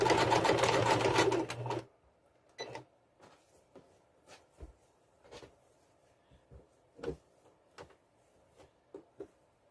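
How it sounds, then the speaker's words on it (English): Sewing machine stitching down the sides of a fabric strip cut from a scarf, a loud close whirring run of stitches that stops after about two seconds, followed by scattered faint clicks and handling knocks. "Now we're going back to the sewing machine"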